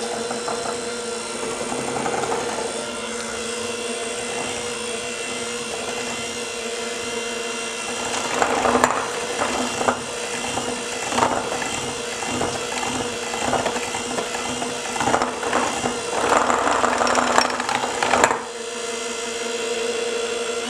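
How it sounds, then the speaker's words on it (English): An electric hand mixer whirs steadily on low speed at close range, with a continuous mechanical hum and occasional rattling surges, and no voices. "I do have a regular mixer and I love it."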